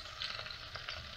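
Pieces of beef browning in a Dutch oven for a beef stew make a faint, steady sizzle with soft crackles over this short moment, and no one speaks.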